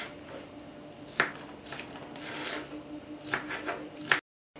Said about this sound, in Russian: Остальное мясо нарезаю небольшими кубиками.